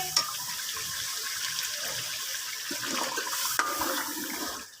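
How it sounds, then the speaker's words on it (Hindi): Water gushes steadily into a pot of chicken korma gravy as it is stirred, a continuous loud rushing with a few small splashes and knocks near the end. "अब हम इसमें थोड़ा थोड़ा करके हाफ गिलास पानी ऐड करेंगे और इसको हम साथ साथ मिक्स भी करते रहेंगे।"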